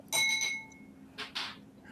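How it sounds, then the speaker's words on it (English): A bright resin-printed Klondike bell rings with a short ding, followed by a couple of quick breathy sounds. "that was one of those Klondike bells he resin printed"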